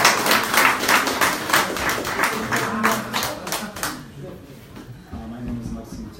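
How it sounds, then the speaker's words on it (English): An audience bursts into clapping for a speaker named Maxim at an agricultural university business event, a few seconds of dense, fairly close applause that fades out before a voice begins speaking. "Let's give Maxim a big round of applause."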